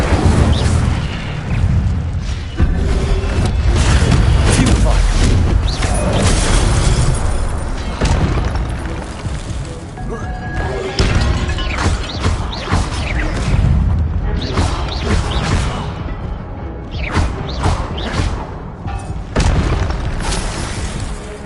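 Incendio fire spell blasts in a Harry Potter video game: loud, dense booms and crackling bursts roll on almost continuously for about twenty seconds, heavy and close, with brief shifting impacts layered on top.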